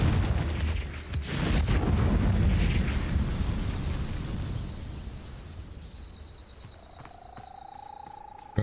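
A Confringo blasting spell goes off in a video game: a loud, booming explosion with a heavy low rumble that slowly fades, followed by a faint rising whistle-like tone near the end.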